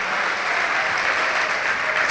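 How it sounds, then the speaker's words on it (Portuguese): A congregation at a Brazilian evangelical church service claps steadily in praise, a broad, even wash of applause that holds throughout and swells slightly at the very end. "Vamos aplaudir o Senhor por isso."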